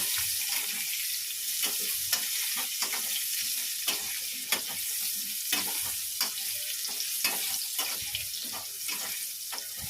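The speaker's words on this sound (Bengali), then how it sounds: "আলুটার মধ্যে নুন হলুদ দিয়ে ভাজছে" Potatoes seasoned with salt and turmeric frying in a pan, a continuous close hiss of oil punctuated by frequent sharp clinks and scrapes of a spatula stirring, with no voices.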